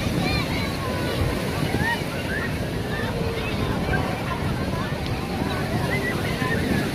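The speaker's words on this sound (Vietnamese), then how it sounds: "Phía dưới này là biển" Sea waves washing onto the beach below Nghinh Phong Tower in Tuy Hòa, Phú Yên, a steady broadband surf roar with wind noise on the microphone and a busy crowd murmuring throughout.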